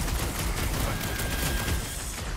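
Steady dense gunfire in Guardians of the Galaxy, a continuous loud barrage of shots with no pauses, heard close up.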